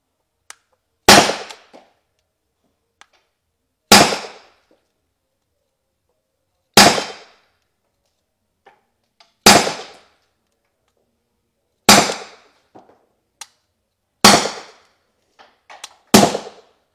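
Seven sharp, loud pops from a Chiappa LTL non-lethal self-defense pistol fired in a shooting test, spaced a few seconds apart with small clicks between, no talking over them.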